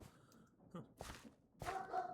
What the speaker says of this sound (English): What the hell are you dogs doing?